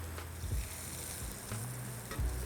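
A wagyu zabuton steak searing in a pan, a faint steady sizzle with a few low thumps as the meat is handled, quiet and without talk.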